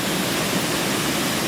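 A riverside waterfall pours in a loud, steady rushing roar that fills the whole clip with no pauses.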